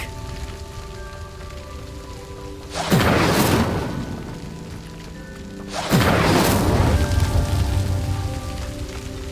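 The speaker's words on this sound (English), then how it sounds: "The flames make the pyre sink." An Incendio fire spell igniting a pyre in Hogwarts Legacy: two loud roaring whooshes of flame, each erupting suddenly and then settling into a crackling rumble, over a quiet sustained musical backdrop.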